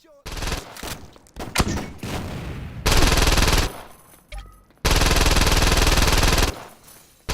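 Bursts of automatic gunfire and single shots ring out in a Saints Row video game boss fight against Dane Vogel in his office, with long loud sustained volleys separated by short pauses.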